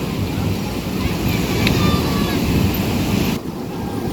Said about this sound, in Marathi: धबधबा एकदम सुंदर आहे